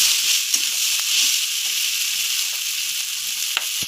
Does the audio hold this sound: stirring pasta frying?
yes